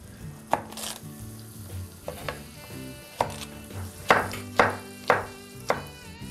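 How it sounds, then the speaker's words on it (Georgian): Chicken fillet sizzles in a hot pan under background music, with several sharp clanks and stirring bursts of the pan and utensil. "სანამ ვახო შეწვავს ქათმის ფილეს"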